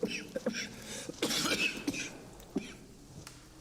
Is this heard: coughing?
yes